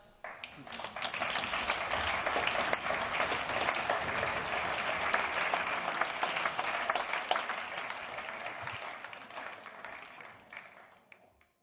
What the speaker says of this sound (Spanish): adelante, un aplauso.